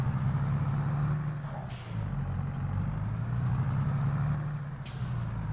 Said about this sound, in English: There it is, our new tractor.